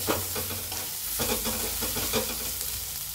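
Ridge gourd sautés in a pan with coarsely crushed roasted peanuts, giving a steady close sizzle with scattered scraping and tapping stir strokes throughout and no one speaking.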